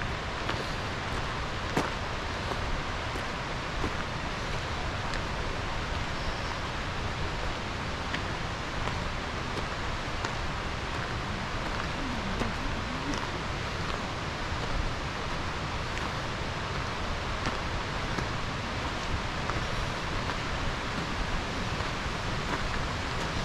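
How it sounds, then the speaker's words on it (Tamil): Bridal Veil Falls in Canada rushes as a steady, dense roar of falling water that fills the whole stretch without a break, with no voices heard. "அருவிட சத்தம் கேட்குது"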